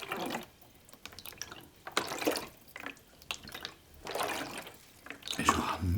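River water flows and laps gently nearby, soft irregular washes and drips rising and falling in loudness, with occasional small splashes as from paddling.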